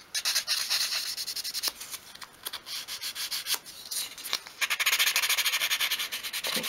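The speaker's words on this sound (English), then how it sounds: "And then I'll sand the draw front." Sandpaper rubbing back and forth over a small wooden drawer front for a 1/12 scale miniature drawer unit, a close, steady rhythmic scratching in quick strokes with brief pauses.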